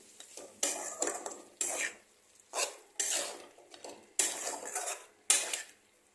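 Masala mutton is stirred in a cooking pan with six distinct, rhythmic scraping strokes of a utensil against the metal, close and fairly loud with short quiet gaps between them.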